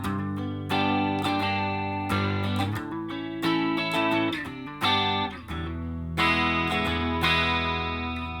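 An electric guitar played through a Yamaha THR10 II amp rings out in sustained, richly overtoned chords with room reverb, strummed in phrases about a second apart, loud and alone without talk.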